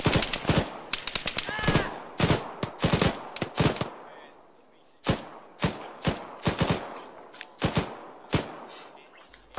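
Vehicle-mounted gunfire in the combat game Arma 3 rattles out in loud, sharp bursts, several rapid volleys spread through the clip with brief pauses between them.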